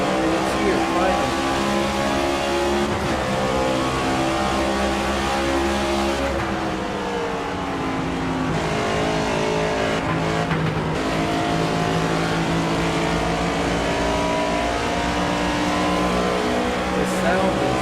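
Race car engines in the NASCAR 25 video game scream at high revs throughout, dipping and climbing with gear changes and corners, loud and continuous with commentary talking over the engine noise.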